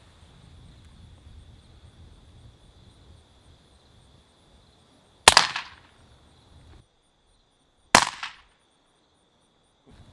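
Suppressed .44 Magnum lever-action rifle firing 200-grain rounds at about 900 feet per second: two sharp, muffled shots several seconds apart, each with a short tail, over quiet ambient hiss.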